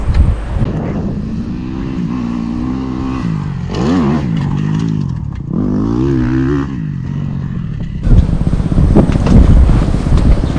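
A motocross bike rides a training track and takes jumps, heard as a loud engine note that rises and falls with the throttle. Strong wind buffets the microphone, and the engine noise surges near the end. Nobody talks.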